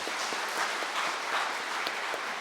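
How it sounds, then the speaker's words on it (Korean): A church congregation claps steadily to welcome new member families, a dense, continuous wash of applause from many hands with no pauses. "뜨겁게 환영하며 박수하겠습니다"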